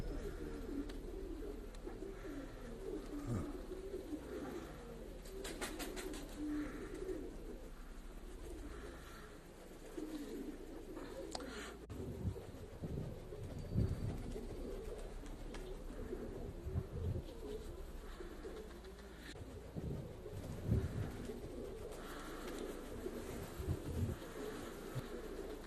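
Domestic pigeons kept in a small town below the Himalayas, behaving unusually, coo in a steady, repeating rumble for nearly half a minute, close and moderately loud, with no talking.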